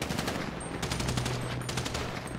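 Rapid gunfire bursts in GTA 5, a quick string of sharp cracks in automatic rhythm over a constant background din. Loud and fairly close, with no voices.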